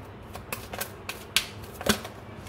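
Stiff oracle or tarot cards shuffled in the hands at a reading, giving a run of soft riffling clicks with a couple of sharper snaps, fairly quiet and close, with no talking.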